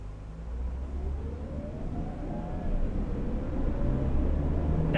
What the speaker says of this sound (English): Now the engine's kicking in.